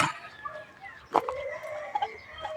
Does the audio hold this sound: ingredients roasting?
no